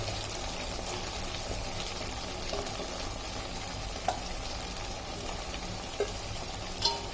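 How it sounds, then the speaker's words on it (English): Fried cauliflower (gobi) tipped into a frying pan of Gobi Manchurian gravy and stirred, a steady sizzle and fry with occasional soft scraping and clinks of the spoon, no talk. "now we're going to add in the cauliflower"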